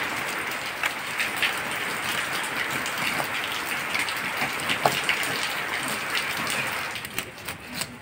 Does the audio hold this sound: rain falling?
yes